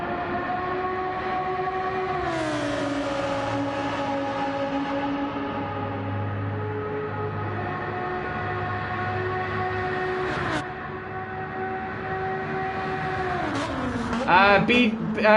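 A McLaren F1 racing at Fuji International Speedway in Gran Turismo 7 gives a steady, high, droning engine whine whose pitch drops sharply at gear changes, with a brief voice near the end.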